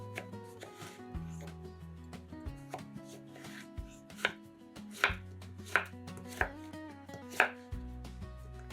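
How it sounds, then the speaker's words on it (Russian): A knife chops steadily through zucchini on a cutting board, a string of crisp, close thumps that grow louder toward the end. "Кабачки нарезаем кубиками."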